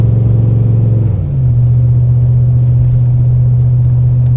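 Chevy 454 big-block engine in an old Chevy pickup tow rig droning steadily at about 2600 RPM, a loud, close, low hum that shifts slightly lower in pitch partway through, then holds even.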